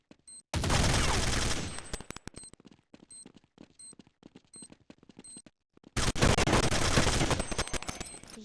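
Two long bursts of rapid automatic gunfire from Counter-Strike bracket a stretch of scattered single shots, loud and close, with short electronic beeps between.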